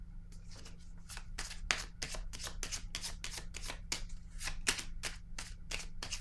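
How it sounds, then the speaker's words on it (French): Tarot cards shuffled and drawn by hand nearby, a quick run of crisp riffling flicks in an irregular rhythm over a quiet low hum, with no speech. "Je vais piger une autre carte sur l'univers."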